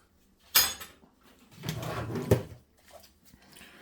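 A brownie tray slides into an air fryer drawer: a sharp metallic clack, then a rattling scrape and a firm thud as the drawer shuts, fairly close and alone in a quiet room.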